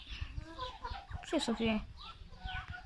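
Broody hens cluck in short, repeated bursts near a farmyard coop, mixed with scattered poultry calls, while a person speaks briefly over them.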